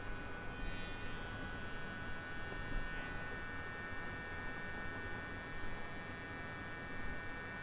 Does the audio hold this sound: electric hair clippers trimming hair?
yes